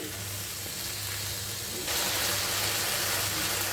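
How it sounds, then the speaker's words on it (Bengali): Mango and onion curry sizzling in a pan, a steady frying hiss that grows noticeably louder and brighter partway through, close and continuous with no voices. "তা আমি এটিকে খুব সুন্দর করে ভেজে নিচ্ছি"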